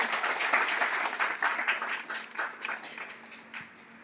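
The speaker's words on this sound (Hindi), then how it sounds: "इनका एक बार जोरदार तालियों से स्वागत करवाएं।" Loud applause from a crowd welcoming guests at a ceremony for a national Under-17 sports event, with dense clapping that gradually thins and fades over about four seconds.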